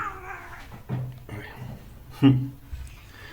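A pet cat meows briefly during an online physics lecture at home, one short cry rising over faint room noise and quiet voice sounds.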